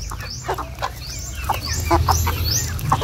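Native free-range chickens on a small farm clucking and calling in repeated short bursts, with higher chirps of chicks mixed in, fairly close with a low ambient rumble underneath.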